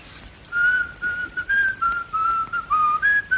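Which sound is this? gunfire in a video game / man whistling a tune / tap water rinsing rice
man whistling a tune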